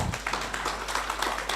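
Audience applause at a savings and credit co-operative society's annual general meeting: steady, moderately loud clapping from a crowd, sustained evenly without pause.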